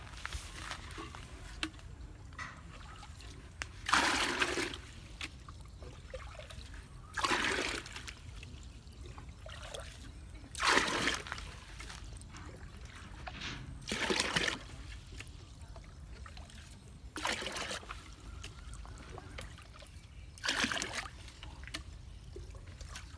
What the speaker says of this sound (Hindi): यहाँ पानी डालेंगे।